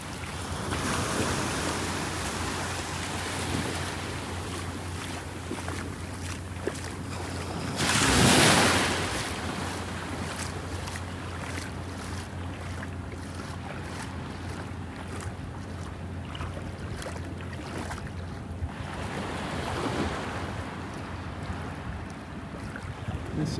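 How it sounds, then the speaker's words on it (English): Ocean waves breaking on the edge of a sandbar at a beach in North Naples, Florida: a continuous wash of surf with wind, one louder crash near the middle and another swell later. "The waves breaking on the edge of the sandbar here."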